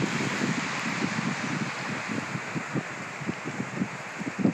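Steady outdoor wind roars and rushes through woods, with repeated gusty buffeting thumps against the microphone and no voices.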